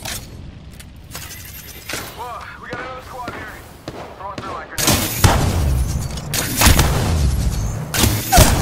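Grenade blasts and gunfire in a battle royale video game, sharp bursts crashing in loudly over the last few seconds after quieter scattered shots, with a player talking underneath.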